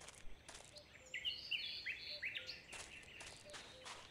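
Birds chirp and tweet in a hunting video game, Cabela's Dangerous Hunts 2013. Short, bright calls repeat irregularly at a moderate distance over a faint steady ambient bed, with no talking.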